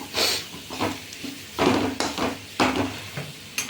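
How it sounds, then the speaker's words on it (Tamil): Fried cassava being stirred in a pan, heard as several loud, close scraping strokes against the pan with a faint sizzle underneath, no talking. "கொட்டி நல்லா கிண்டி விடணும்."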